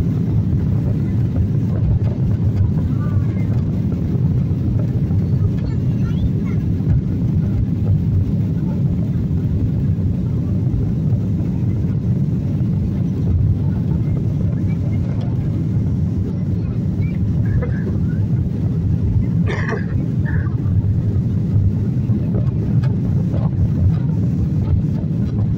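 A jet airliner's roar fills the cabin during takeoff, a loud, steady low rumble with rushing air noise that continues unbroken, and a person speaks faintly over it.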